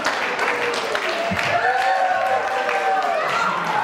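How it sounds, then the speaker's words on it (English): Audience applause at a trivia event, a steady wash of clapping lasting several seconds with crowd noise mixed in. "Applause."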